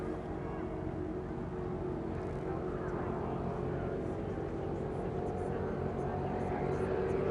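A loud, steady roar of powerful offshore racing powerboat engines running continuously at high speed during a sprint race at the UIM Sicily Ocean Grand Prix, with a constant droning hum throughout.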